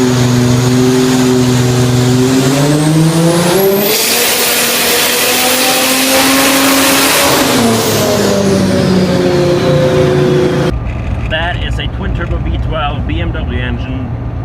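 A BMW V12 swapped into a 1935 Chevy four-door sedan, making over 1,000 horsepower, revs hard on a dyno in a long, loud rising and falling wail, then drops to a lower idle-like drone with faint voices near the end.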